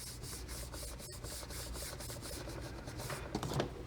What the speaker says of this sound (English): Give it a little burnish.